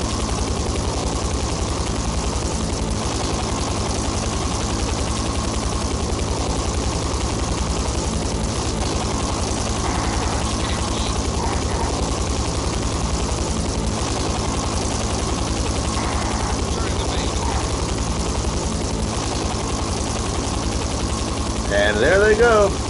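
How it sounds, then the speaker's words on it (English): A loud, constant whirring helicopter rotor drone in the video game Carnivores fills the scene without letup, with faint game effects flickering over it. "It's not the normal trophy ship, it's a helicopter."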